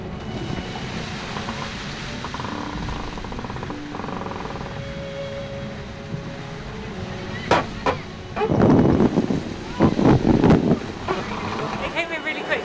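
A racing sailboat drives hard through rough water as the wind rises to 30 knots. Rushing wind and hull noise run throughout, with bursts of crashing spray and water slaps near the end, and muffled voices partly over them.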